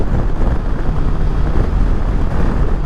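Loud, steady wind roar buffets the microphone while riding a Suzuki GSX-S1000GT motorcycle at 70 mph on a motorway, a dense low rumble that stays constant with no speech.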